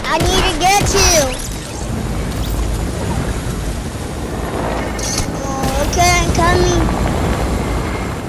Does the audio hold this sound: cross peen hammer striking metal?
no